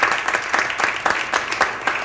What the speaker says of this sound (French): Moi, je les applaudis, en tout cas